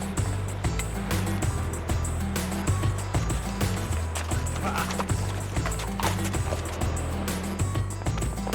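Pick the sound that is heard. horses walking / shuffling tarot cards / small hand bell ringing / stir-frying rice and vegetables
horses walking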